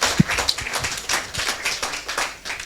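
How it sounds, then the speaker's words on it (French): A church congregation clapping for the preacher during a sermon: loose, fairly soft scattered hand claps that keep going unevenly throughout. "vous pouvez applaudir pour l'homme de Dieu?"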